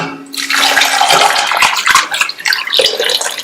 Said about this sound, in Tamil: கிழங்கு முங்குற அளவுக்கு தண்ணி